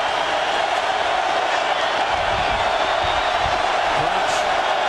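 Hometown crowd noise at a college football game between Oklahoma and Nebraska, from 2000. A dense, steady roar from the stands fills the whole stretch with no letup.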